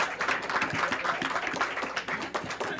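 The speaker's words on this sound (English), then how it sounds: "Let's give her a nice round of applause." An audience at a lecture for Navy SEAL trainers breaks into a loud, steady round of clapping, close and dense for several seconds.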